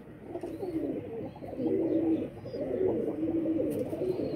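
Pigeons kept by a fancier coo in low, rolling phrases, several soft calls overlapping close by with no talking over them.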